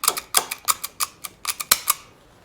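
A zip tie gun ratchets a zip tie tight and snips it flush while bundling wiring harnesses on a 2020-2022 Indian Challenger motorcycle. About a dozen sharp, close clicks come in quick, uneven bursts.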